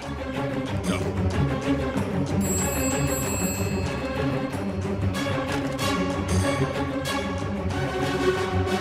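A telephone ringing steadily and loudly, its electronic ring repeating throughout with some background noise, no voices.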